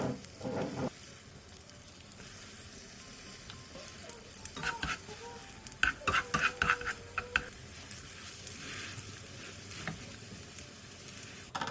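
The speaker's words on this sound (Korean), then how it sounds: "팬에 기름 둘러 계란물을 부어가면서 돌돌 말아주세요." Rolled egg omelette with green onion frying in an oiled pan: a soft, steady sizzle throughout, with a cluster of light taps and scraping clicks in the middle as the egg is rolled.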